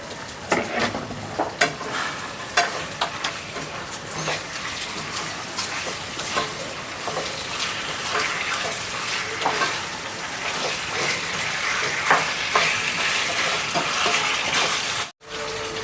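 Chicken sizzles and fries in a pan over a low flame, with a steady broadband hiss throughout and repeated scraping stirs marking an uneven rhythm close by, all without any voices.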